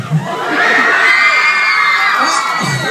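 A crowd of girls at a mall event screams and cheers together in one loud, sustained high-pitched roar lasting a few seconds, with brief talk before and after.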